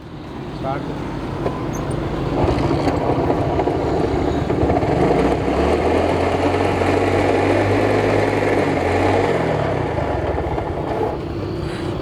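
A smoking motorbike idles and runs steadily on a road in Lahore, a continuous engine drone mixed with roadway traffic noise and a passing rumble, with voices talking nearby.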